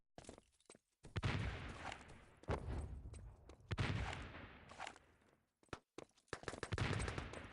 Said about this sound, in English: Nice shooting from Fireball's going to take down player there.